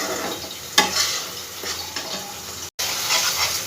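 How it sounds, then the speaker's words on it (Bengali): Spice paste for Bengali potol posto stirred and fried in a pan, a steady close sizzle with scraping stir strokes and a sharp clack near the start, cutting out briefly before resuming. "ভালো করে একটু আমি ভেজে নেব মশলাটাকে।"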